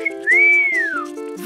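A cartoon marmot whistles one clear, rising and falling note lasting under a second, loud and close over a soft musical background.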